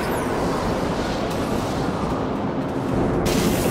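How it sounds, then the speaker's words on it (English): A flechette swarm launched from an artillery cruiser in Dreadnought, heard as a loud, continuous roaring rush of explosive noise that holds steady for several seconds and swells slightly at the end. "Launching flechette swarm"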